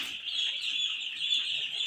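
Young chicks in a poultry brooder peep in a dense, continuous high-pitched chorus, steady and fairly loud throughout with no talking.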